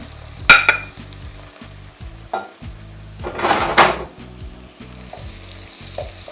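Sambar powder and spices sautéing in a hot pan, giving a close sizzle and frying hiss with stirring scrapes and utensil clinks, rising in bursts over a steady low background hum.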